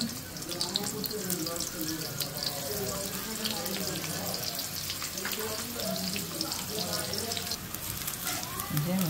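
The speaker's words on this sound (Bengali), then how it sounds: "তেল গরম হয়ে গেছে, এখন দিয়ে দিব পেঁয়াজ কুচি" Chopped onions hit hot oil in a wok with a loud, busy crackling sizzle that stays steady throughout, heard up close.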